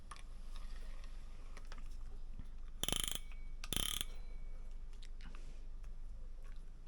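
A Daiwa Free Swimmer BR 10000 spinning fishing reel gives two short bursts of bright ratcheting clicks from its drag, close and fairly quiet over a steady low background hum.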